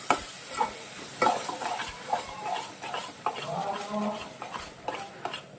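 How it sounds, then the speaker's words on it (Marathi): Masala paste of ground onion, tomato and spices frying in oil, with a steady close sizzle and intermittent scraping stirs across the pan, no talking. "हे बघा आता हे परत छानपैकी भाजून घ्यायचं आहे तेलामध्ये"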